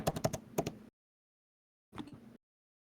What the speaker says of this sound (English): I like how you could hear a little typing there.